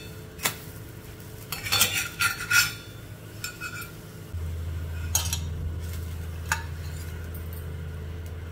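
Metal utensils clink and scrape against a pan while fried appalu, a Telugu sweet, are lifted from hot oil, followed by a steady low hum and faint sizzle with a few more light clicks.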